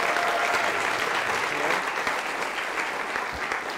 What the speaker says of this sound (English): Can we give a round of applause for Charlie Doe?